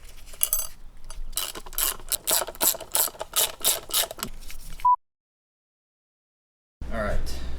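Hand tools working on a motorcycle rear sprocket, with a run of rapid ratchet clicks and metallic rattles close by, then a gap of silence before more handling noise.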